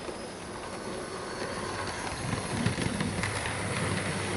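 A Bachmann Southern Class E4 model locomotive runs along its track pulling four coaches, giving a steady, continuous rolling rumble with faint clicks that stays even and close throughout.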